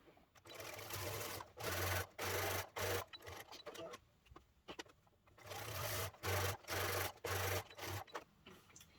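A sewing machine top stitches a fabric gift bag in repeated bursts, running for a second or so at a time with short pauses between, close and fairly quiet.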